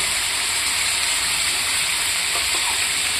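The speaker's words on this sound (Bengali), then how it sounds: "এটা কিছুক্ষণ কষাবো।" Chicken and potatoes sautéing in a pan for chicken gravy, giving a continuous loud sizzle and hiss that holds steady throughout with no talking.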